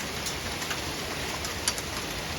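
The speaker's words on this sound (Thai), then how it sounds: "จบไปหนึ่งหาแล้วเงียบสงบแล้วก็ยังมีอยู่เล็กน้อย เสียงเบาแล้วนะคะ ลูกเห็บ" Hail and rain during a heavy downpour have eased to a steady, even hiss of falling rain, with one brief sharper tap near the middle and no talking.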